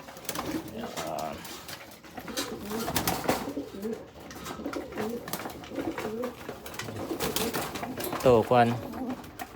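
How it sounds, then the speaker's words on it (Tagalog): Pigeons, a batch of young birds including a grizzle and a red bar, coo and flutter while eating at a feeding spot, with several birds close by and someone speaking over them throughout. "susubukan natin magpapaamo ng mga bagong YB mga kalapatids"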